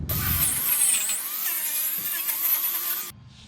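A wire wheel spins on a power tool with a steady, loud high-pitched whir, working on a bottle jack, running continuously for about three seconds before cutting off.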